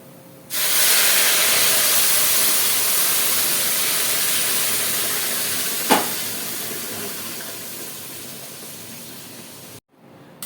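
Hot water pours into a pot of rice and lentil khichuri and sets off a loud, steady rush of hissing steam that holds for about nine seconds. A brief splash comes midway, and the hiss then cuts off abruptly.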